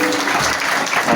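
An audience applauds during a 43rd anniversary celebration at a Baptist church; dense clapping fills the whole short moment at a fairly loud, even level.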